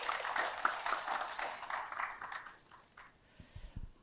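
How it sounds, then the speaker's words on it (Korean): Audience applause welcoming participants at a policy forum, a steady patter of clapping that fades out over the last second, leaving a few faint thumps. "온라인으로 참석해 주신 여러분께 환영의 박수 부탁드립니다"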